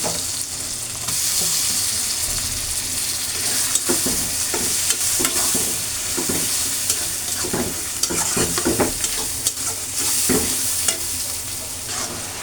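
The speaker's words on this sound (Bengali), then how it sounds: "আমি এখন চিংড়ি মাছটা দিয়ে দেবো" Shrimp sizzle loudly in hot oil with dried chili powder in a pan, while a spoon stirs with repeated scraping clicks against the metal over a constant frying hiss.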